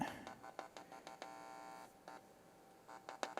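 A rebuilt bench signal tracer gives off a faint steady electrical hum with tonal lines, broken by soft rhythmic clicks and crackles, with no one talking.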